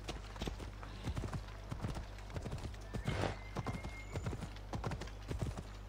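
A horse galloping in the video game Assassin's Creed Odyssey, with close, rhythmic hoof clip-clops over a low steady hum and a brief whinny partway through.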